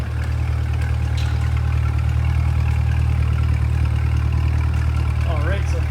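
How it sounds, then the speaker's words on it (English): A 2021 Chevrolet Corvette 2LT Convertible with the NPP performance exhaust idles up close in a steady, deep, even rumble that holds for several seconds. "listen to the exhaust just that idle here"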